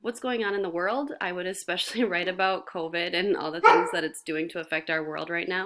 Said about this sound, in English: Sorry about my dogs barking in the background.